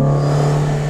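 A 1999 Honda CR-V with a failing axle seal, engine held at 5,000 RPM, gives a loud, steady droning whine that stays even from start to finish with no talking.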